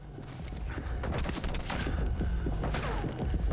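Rapid shotgun blasts and gunfire from a Metal Gear Solid V firefight crack out in a dense, overlapping burst, loud and continuous across the whole stretch with thumping low impacts.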